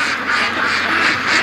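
Ducks kept as pets at a lake in Indian summer give a run of loud, close, nasal quacks, overlapping one another in continuous chatter with no pauses.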